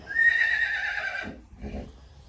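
A small mustang foal whinnies once, a clear, high, wavering neigh lasting about a second, followed by a brief lower snort or sputter, close and alone.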